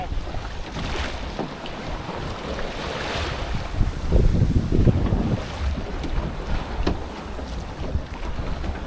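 Gusty wind buffets the microphone throughout a sail in a Scamp dinghy, with water washing and sloshing against the hull beneath it.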